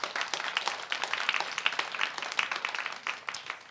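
A church congregation claps together in steady, dense applause, moderately faint and sustained throughout with no talking over it.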